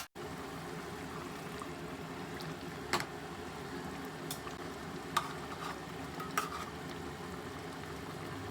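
Chanduva fish curry simmering in a covered pan on a medium flame, a soft continuous bubbling sizzle with a few faint clinks and taps over it, no voices.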